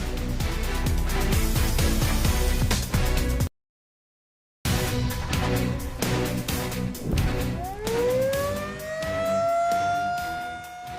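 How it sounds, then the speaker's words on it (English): After loud, dense noise and a brief silence, a tornado siren winds up, its wail rising in pitch and holding loud and steady. "Never wait until you hear tornado sirens"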